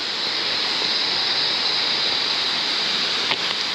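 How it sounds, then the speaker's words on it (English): Steady, loud broadband rush of a waterfall in Nakhon Si Thammarat, a continuous roar of falling water with no voices. "I could not get to go away from here without coming and see this waterfall here."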